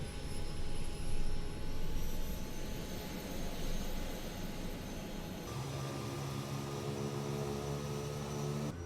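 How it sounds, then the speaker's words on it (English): Kodiak 100 turboprop engine in Microsoft Flight Simulator spooling up from idle cutoff to low idle, a steady whining rush with rising tones that shifts to a lower humming drone partway through. "from idle cutoff to low idle, and we should see it spool up to 50"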